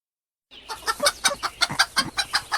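A hen clucks in a quick series of short, bright bursts, fairly close and steady in rhythm, with no talking.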